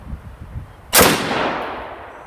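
Single rifle shot from a custom infantry automatic weapon style upper receiver firing 77 grain Black Hills open tip match ammunition, a sharp loud crack followed by a decaying echo.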